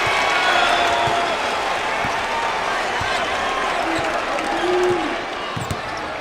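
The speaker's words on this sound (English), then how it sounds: "the crowd appreciates the defensive effort" A basketball arena crowd at a UL Lafayette vs LSU college game cheers and applauds a defensive block, a sustained roar with a few ball bounces, easing off near the end.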